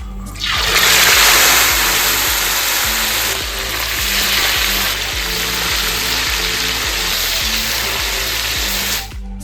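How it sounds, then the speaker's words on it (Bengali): Chicken pieces fry in white oil in a hot wok, a loud, close, continuous sizzle that swells sharply at the start and holds steady, with low rhythmic thumps beneath it. "মাংসগুলো ভালো করে ভেজে নেব"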